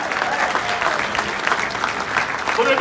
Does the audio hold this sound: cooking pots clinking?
no